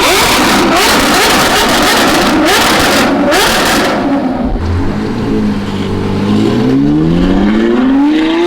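Ferrari 812 fitted with a Ryft exhaust revs hard and loud up close, with sharp rising sweeps and crackling bursts before settling into a rising engine drone as it pulls away.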